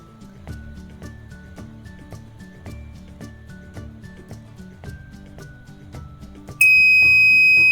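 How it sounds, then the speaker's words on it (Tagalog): A coin slot timer on an Arduino-controlled vending machine setup gives a sudden loud, sustained electronic beep near the end, breaking in over quiet rhythmic background music. "nag-beep na siya kapag tapos na yung kanyang time."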